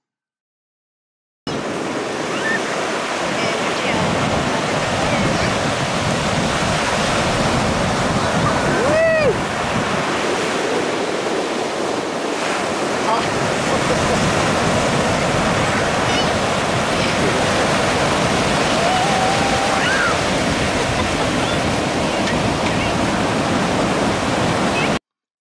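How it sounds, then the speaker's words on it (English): Wind and surf along the coast of southeastern North Carolina during Epic V5 surfski paddling, a loud steady roar of breaking waves and gusting wind, with a brief faint high call partway through. "Brace yourself for the sound of wind, surf, and happy children during the next segment."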